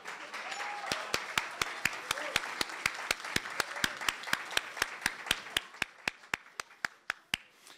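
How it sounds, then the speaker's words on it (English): At a SPAN meeting, one nearby pair of hands claps sharply and evenly about thirty times in a steady rhythm, slowing slightly at the end, over faint background talk. "we'll give you a big round of applause"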